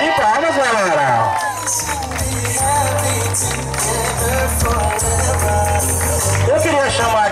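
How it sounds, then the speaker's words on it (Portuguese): A lively birthday party crowd cheering and shouting with scattered clapping, voices overlapping throughout at close range. "Uma salva de palmas, galera!"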